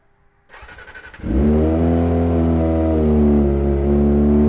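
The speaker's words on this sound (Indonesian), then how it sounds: "motor ini gacor ya, tergolong gacor karena knalpotnya kayak gitu" A Kawasaki Ninja motorcycle with a loud exhaust fires up after a brief starter whir, then holds a deep, steady, rumbling rev close by, with no talking.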